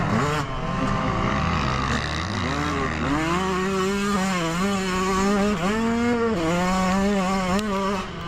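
A 2024 Yamaha motocross bike engine revs and shifts while being ridden, its pitch climbing and dropping in repeated bursts as the throttle opens and closes, loud and close with a raspy exhaust note.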